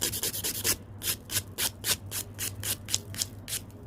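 A nail file rubs back and forth across the top of a fingernail in quick, rhythmic scraping strokes, close and crisp, about three or four strokes per second with brief gaps, over a faint low hum.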